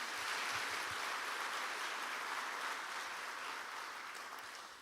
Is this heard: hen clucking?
no